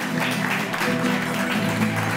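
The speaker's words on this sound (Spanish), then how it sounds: "Un aplauso, por favor." Crowd applause during a Spanish diner-style comedy show game, dense continuous clapping mixed with loud room noise and background voices, steady and close throughout.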